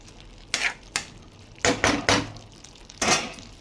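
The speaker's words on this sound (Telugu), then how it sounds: "కలిపేసుకుందాం చక్కగా కలిపేసుకుందాం" Spoon stirring ivy gourd and tomato curry in a pan, five distinct scraping strokes in irregular rhythm, close and clear over a faint low sizzle, no voices.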